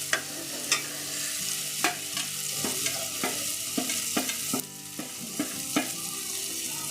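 Onion-tomato masala sizzles steadily in a pan for a Malvani-style sprouted horse gram curry, while a spoon stirs it in regular scraping strokes, close and fairly loud, with no talking.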